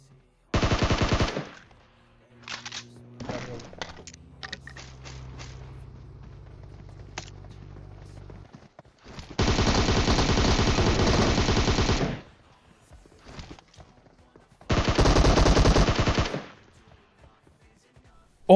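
Bursts of M16 rifle fire in the battle-royale video game PUBG: a quick volley near the start, then two long sustained automatic bursts later on, loud and close, with quieter scattered shots and some background game sound in between.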